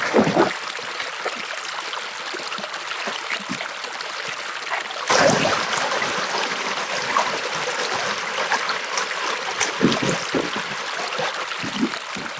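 Creek water flows and trickles steadily around someone panning for gold in a streambed, with splashing and the rake of rocks in the pan; a constant near wash that surges slightly midway.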